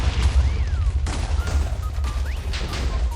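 A chain of TNT blocks detonates in Minecraft while mining for ancient debris in the Nether, a rapid series of sharp explosive booms over a low rumble lasting about three seconds.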